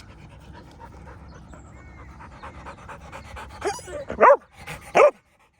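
A dog pants in steady, rapid breaths that begin softly, then rises to a few louder huffs and whimpering yips near the end. Faint background noise sits underneath.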